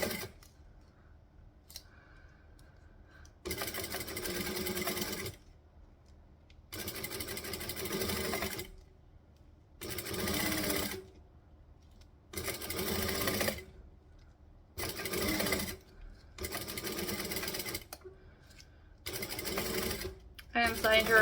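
A sewing machine stitches a heavy garment in repeated bursts of a few seconds each, separated by pauses, close and clear, with a person talking quietly in between.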